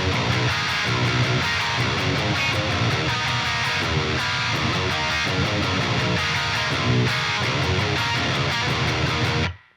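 Dense, loud distorted electric guitar playing the chorus riff of a progressive metal song, with driving rhythmic chugs over full-band backing for about ten seconds before stopping abruptly.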